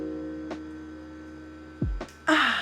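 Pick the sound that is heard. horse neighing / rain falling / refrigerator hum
refrigerator hum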